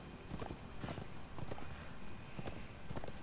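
Horse hooves in the video game Darksiders II, a series of spaced clip-clop hoof beats at moderate distance over a continuous noisy game background.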